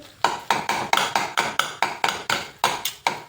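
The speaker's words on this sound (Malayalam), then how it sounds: "2 സ്പൂൺ വെച്ച് ഇതേപോലെ ഒന്ന് കൊത്തി കൊടുക്കണം" Two steel spoons chop dosa on a hot pan for kothu dosa, striking in a fast, regular rhythm of about a dozen sharp metallic clacks, close and loud with no voices.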